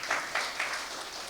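Brief applause from a church congregation during a Sunday sermon, a few bright bursts of clapping over about a second before fading into a low murmur.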